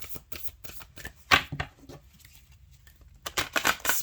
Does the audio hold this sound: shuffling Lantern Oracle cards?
yes